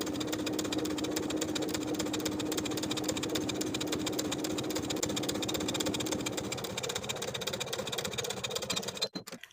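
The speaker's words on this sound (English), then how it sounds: "edge stitch close to the upper inner fold all the way across to create a casing" A sewing machine runs continuously while edge stitching a fabric casing on a dress, a steady mechanical whir with rapid needle vibration that holds for several seconds before stopping abruptly near the end.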